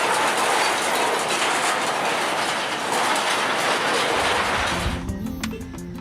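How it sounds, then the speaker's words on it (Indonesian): A rail lorry hauled by locomotive number 15 passes close by on a sugar-estate-style line, with loud rolling wheels and rhythmic clickety-clack over the rail joints, then squealing and clanking as it pulls away. "saat lori yang ditarik oleh lokomotif nomor 15 melintas"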